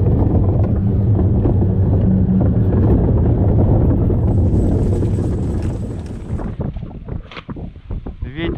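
Strong wind buffets the microphone on the shore of Lake Ladoga during a fishing trip, a steady loud roar that drops off toward the end into gusty, uneven bursts.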